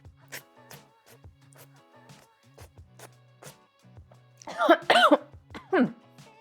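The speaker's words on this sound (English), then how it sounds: "Oh, that cough is real." A few quiet throat sounds lead into a burst of harsh, raspy coughing after tasting olive oil, several close coughs clustered together near the end.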